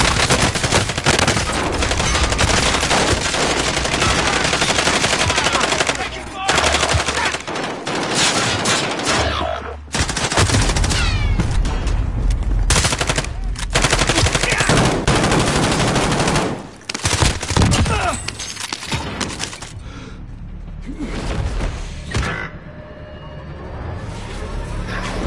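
Sustained heavy gunfire in a war video game, loud rapid bursts and volleys pouring in nearly continuously with brief gaps, as if the player is under fire.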